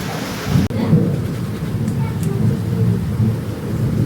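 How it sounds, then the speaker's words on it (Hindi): Heavy rain pours down with strong wind, a loud, dense, steady hiss, while deep thunder rumbles underneath for the whole stretch. "बहुत तेज़ बारिश आ रही है, हवा भी बहुत तेज़ चल रही है।"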